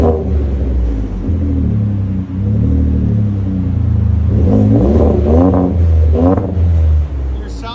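A 2019 Ford F-150 XLT EcoBoost with Vibrant and Magnaflow exhaust idles with a deep rumble, then revs in several rising bursts toward the end. The sound is loud and close, with some voices mixed in.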